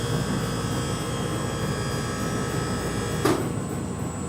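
An air compressor runs close by with a continuous loud mechanical drone and rattle, and a brief sharp click or clunk breaks in near the end as it carries on.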